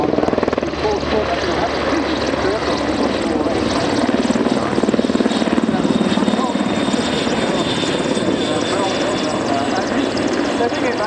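Merlin HM2 helicopter at an air display at Waddington, a loud continuous rotor and turbine roar as it slows toward a hover, with an announcer talking over it.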